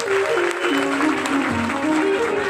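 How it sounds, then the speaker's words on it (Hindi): Loud clapping from a devotional gathering honoring the Maharaj at a Bhagavat katha in Gwalior, dense and sustained, with a sustained musical tone and voices running underneath. "एक बार और जोरदार ताली हमारे महाराज जी के लिए"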